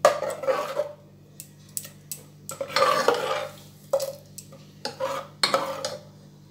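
Maize flour batter stirred bit by bit into greens cooking in a pot over a low gas flame, with a series of irregular scraping and clinking strokes of a utensil against metal between quiet pauses.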